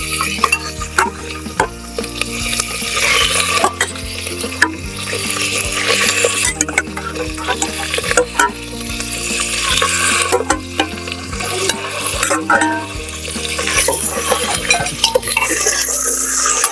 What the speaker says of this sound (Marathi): दोन तीन तेजपत्ता टाकल्यानंतर डायरेक्ट आपण मटण टाकून देऊया.